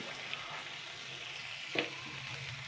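Vegetable noodles fry gently with chili sauce and tomato ketchup in a pan over a low flame, a soft steady sizzle with a brief stirring clatter near the middle.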